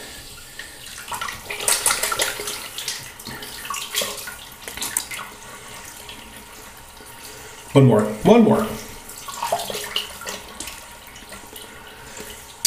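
A tap runs into a sink during a wet shave with a Maggard slant razor and Saponificio Bignoli Violetta di Parma cream, giving irregular splashing and trickling close by, with a louder burst partway through and someone speaking briefly.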